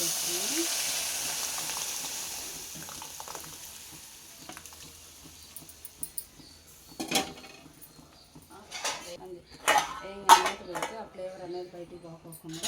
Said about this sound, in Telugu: ఇట్లా తాలింపు వేయగానే మూతేసుకుంటేనే ఆ ఫ్లేవర్ అనేది బయటికి పోకోకుండా ఉంటుంది